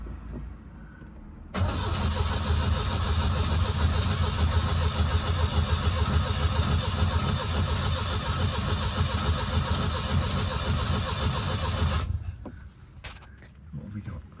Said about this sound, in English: Obviously there'll be no fuel in the carb, so it'll take a little bit of cranking.